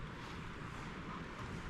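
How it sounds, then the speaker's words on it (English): Strong wind at an outdoor hiking site in Snowdonia buffets the microphone with a steady, low, rumbling roar and no pauses or other sounds. "I won't be able to do much jabbering because it's so windy."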